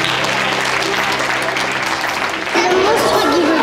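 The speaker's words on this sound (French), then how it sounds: "on va déjà s'applaudir" A group of children and adults in a Freinet-method school art class applaud themselves with steady, dense clapping for a couple of seconds, then a voice rises over the continuing claps.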